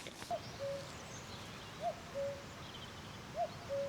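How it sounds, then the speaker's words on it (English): A cuckoo calls from a distance at a quiet countryside cottage in Ireland, its two-note call repeating three times at a steady interval over faint outdoor ambience. "The cuckoo's over there now, I think."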